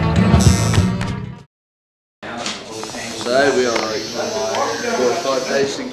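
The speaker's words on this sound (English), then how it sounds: "Sean's having a Marmot tattoo on his shoulder" An electric tattoo machine buzzes steadily while a marmot design is inked on a shoulder; the buzzing runs under lively talk and music, broken by a short silent gap.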